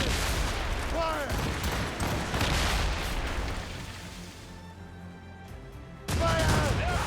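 Ship cannon fire in the naval battles of Assassin's Creed Rogue booms as heavy, sustained rumbling volleys that fade into a quieter lull before a fresh loud blast, with shouted voices mixed in.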